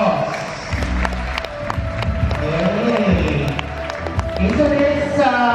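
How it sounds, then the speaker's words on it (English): Employees at a school Christmas party break into applause, a sustained wash of clapping and crowd noise filling the room, with voices and a few cheers mixed in throughout. "so let's give ourselves a round of applause."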